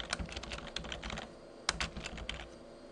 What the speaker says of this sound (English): So we'll type in a reason to restore.